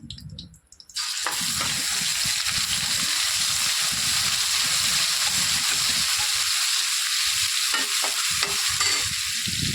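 Ginger garlic paste hits hot oil with curry leaves and bursts into a loud, steady sizzle after a brief quieter start, with occasional stirring scrapes through the constant frying hiss; no voices.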